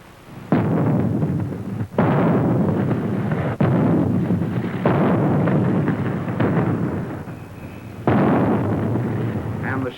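Artillery shells fitted with timing fuses fired at an ordnance proving ground: a series of about six loud, heavy booming blasts, each a sustained roar that cuts off sharply, coming in quick succession.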